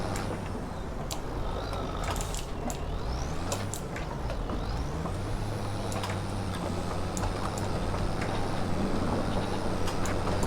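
A truck backing a trailer into place in Farming Simulator 25 gives a steady low diesel rumble, with short sharp air-brake hisses and mechanical clicks scattered over it, close and continuous with no talking.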